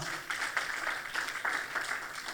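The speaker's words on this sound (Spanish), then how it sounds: "Denle ese aplauso fuerte al Señor." A church congregation claps during a Spanish-language sermon, a moderate steady patter of many hands with rhythmic swells, without clear speech.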